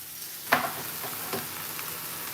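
Onions frying in a pan, a steady close sizzle with a couple of light stirring knocks and no talk.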